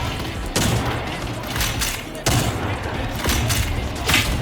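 Rapid gunfire from a sniper rifle in the online shooter Battle Teams 2, with several sharp reports and thuds over dense background battle noise, fairly loud and close.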